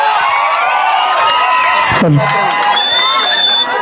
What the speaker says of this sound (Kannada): ಬರಲಿ ತಮ್ಮ ಪ್ರೀತಿಯ ಚಪ್ಪಾಳೆಗಳು